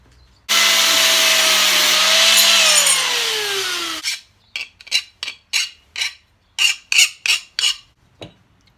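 Steel stock for a catch can bracket being cut: a loud continuous grinding whine for several seconds, then a rapid series of sharp rasping strokes, close and with no voices.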